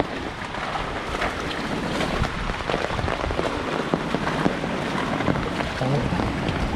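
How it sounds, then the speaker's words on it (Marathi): Steady, dense hiss of heavy monsoon rain pouring down without a break, loud and close, with a rushing wash of water underneath. "चार पाच दिवस मित्रांनो लगातार पाऊस आहे"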